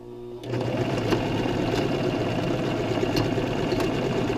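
Sewing machine backstitching a fabric accordion-style face mask, a steady close mechanical whir of rapid needle strokes starting after a brief quiet moment and running evenly to the end.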